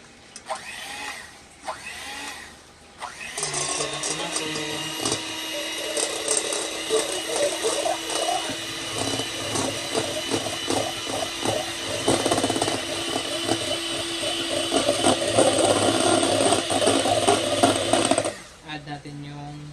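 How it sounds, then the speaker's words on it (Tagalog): Electric hand mixer beating eggs for eggplant cupcake batter, a steady close whirring motor with a rattling mechanical texture that starts after a few seconds, runs continuously and cuts off near the end, with brief talk before it. "tsaka na po papasok yung hand mixer. Mag-hand mixer po tayo"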